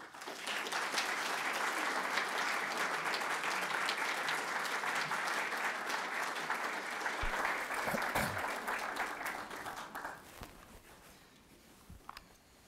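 An audience applauds to welcome historian John Dower at a keynote commemorating the centennial of the Russo-Japanese peace treaty, a full, steady clapping from a hall-sized crowd that thins out and fades to scattered claps near the end.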